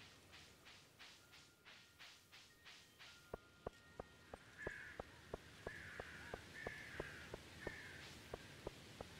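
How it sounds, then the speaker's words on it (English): Crows caw in a rapid run of about eight calls in the video game Stardew Valley, followed by steady rhythmic footsteps and a few softer caws, all moderately faint. "every time I hear the crows in this game, they sound so realistic."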